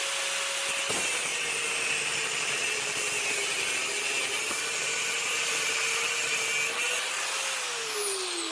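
Power tool cutting down bolts during a scrambler motorcycle build, a steady close grinding whine that runs continuously and sinks in pitch near the end, with no talking.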